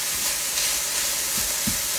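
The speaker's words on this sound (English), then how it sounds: "I'm going to saute this onion in there a little bit" Chopped onion sautéing with lean ground meat in a hot pan for taco pizza, a steady soft sizzle hissing throughout with a couple of faint stirring knocks near the end.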